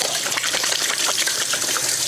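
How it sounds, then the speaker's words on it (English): Tap water runs steadily in a kitchen as hands are washed, a continuous splashing gush that stays even and close for the whole stretch with no talking. "Wash up my hands."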